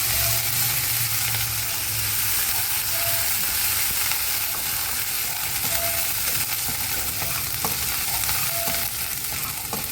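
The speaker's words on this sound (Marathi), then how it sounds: "आपले तेल चांगले तापले आहे, त्यामध्ये ही मी ठेचून ठेवलेला अद्रक लसूण टाकते आहे आणि त्याला छान परतून घेते" Crushed ginger and garlic fry in hot oil for a Maharashtrian green chilli stuffed with chicken keema, a steady loud sizzle with scraping and stirring clicks running throughout, no voices.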